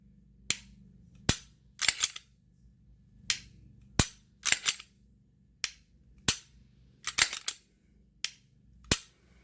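Glock pistol fitted with a Ghost trigger bar, dry-fired repeatedly: a series of sharp, close mechanical clicks in an irregular rhythm, some in quick doubles, alone without talk.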